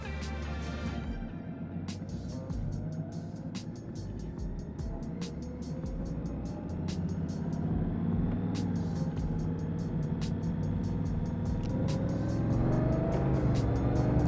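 A 2018 Honda Goldwing motorcycle pulling away and riding on the road, its engine rising into a steady rumble with wind noise, close and moderately quiet, with sharp clicks scattered over it.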